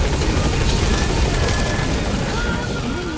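A helicopter in the video game Metal Gear Solid V, a steady loud rotor drone that fills the whole clip, with gameplay sounds layered over it.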